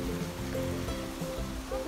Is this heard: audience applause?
no